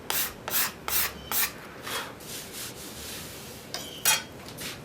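A wooden chair seat sanded by hand with a third of a sheet of 150-grit sandpaper: soft, rhythmic rasping strokes, about a dozen, close and fairly quiet with brief pauses between passes.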